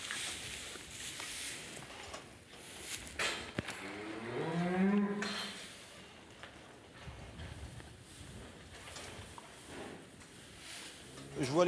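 Blonde d'Aquitaine beef cattle on a French organic farm low a few times at moderate distance, with a clearer moo in the middle, amid outdoor background noise and some talk.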